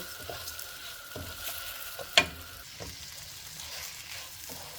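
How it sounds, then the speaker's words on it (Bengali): Washed polao rice crackles faintly as it fries in a pan, with occasional scrapes and knocks of stirring and one brief sharp clink against the pan. "পোলাওর চাউল দিয়ে দিলাম এখন এর সাথে ভালো করে একটু ভেজে নিব"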